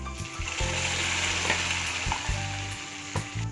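Cooked dal hits a hot tempering of dried red chillies in a pan and sets off a loud, dense sizzle with stirring scrapes, running steadily and close.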